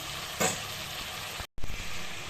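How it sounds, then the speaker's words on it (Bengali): Fish curry masala sautéing in a pan, a dense steady sizzle up close with a stirring scrape early on and a momentary cut before the frying resumes loud. "একটু ভালো করে কষিয়ে নেব"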